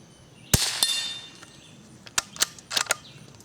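A low-noise .22 rimfire load fired at a steel squirrel target: a sharp crack with a ringing metallic ping, followed by several more brief clanks and taps, fairly close.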